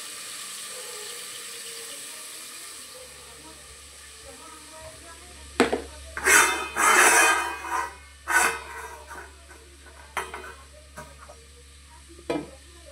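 Fried rice sizzling in a home kitchen pan before a lid goes on it, with a quiet frying hiss and then a burst of louder scraping and clattering bumps mid-clip, a few sharper knocks after, and someone talking in between.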